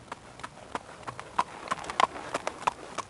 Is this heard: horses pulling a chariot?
yes